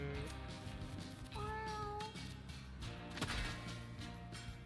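Cats meow in the video game Mewgenics, a clear cartoonish meow in the middle rising over busy game music and sound effects, with thuds and crashes of combat nearby.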